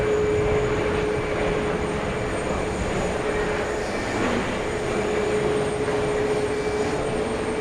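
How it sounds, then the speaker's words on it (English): A JetBlue airliner taking off at JFK airport, bound for Santo Domingo, heard as a steady, loud, broad engine roar with a faint sustained whine, holding evenly throughout with no talk. "First up, though, we have JetBlue taking off."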